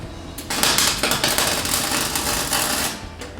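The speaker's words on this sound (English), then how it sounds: "Just gonna weld that to the inside of the frame" Welding a metal bracket to the inside of a car frame produces a steady, close, crackling buzz of dense sputtering bursts that runs for a few seconds before cutting off.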